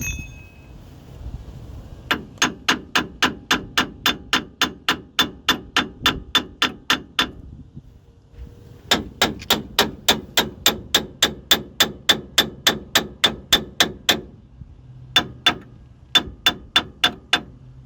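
Steady metal hammer blows on a stuck part during BMW E30 engine work ring out in fast rhythmic runs, with brief pauses between bursts, close and sharp.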